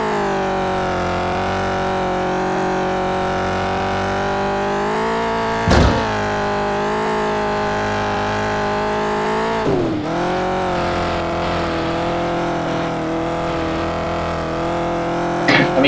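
In Test Drive Eve of Destruction, a car engine warms up with a steady loud idle and two sharp blips of throttle, close and sustained with no voices.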